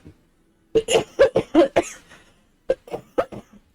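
A person coughs in two rapid bursts, a string of about seven sharp hacks followed after a short pause by four or five more, close and loud with no speech.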